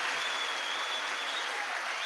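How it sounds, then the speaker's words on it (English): Applause from a recording played back during a call-in show, a steady, dense clapping wash at moderate level with a faint tone running through it and no talk over it. "That's just the applause."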